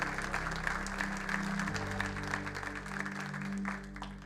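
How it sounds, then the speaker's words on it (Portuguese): A church congregation applauds after a sermon, producing a dense, continuous patter of clapping, fairly faint, over a low sustained hum that dips and returns. "Você pode aplaudir o Senhor por essa palavra?"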